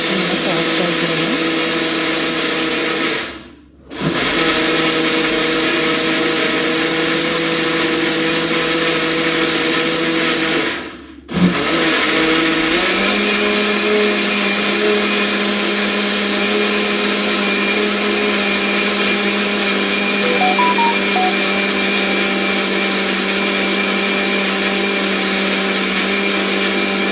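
A mixer grinder grinds soaked urad dal with cooked rice into idli batter, a loud steady whine that cuts out twice for a moment before running on continuously.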